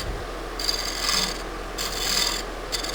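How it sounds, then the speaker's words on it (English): A scraper cuts across a spinning winged burl wood bowl on a lathe, giving repeated rasping scrapes in three distinct passes over a steady low motor hum, close and moderately loud. "So I just keep scraping this away like so and around my edge."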